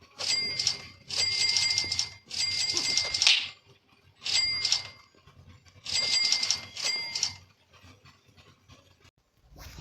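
A dog tied up nearby gives a series of bursts of high, tonal yelping or whining barks in irregular clusters, moderately loud and fairly close, with quiet gaps between them and no talking.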